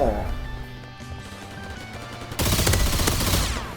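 Explosive gun firing in the Roblox Hypershot video game, a sustained loud burst of blasts that suddenly intensifies partway through, with excited talking mixed in.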